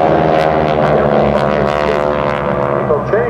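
Propeller aircraft of the Geico Skytypers team flying at the 2010 Westfield International Airshow, a steady droning engine hum that runs through the whole stretch beneath a continuous amplified announcer's voice.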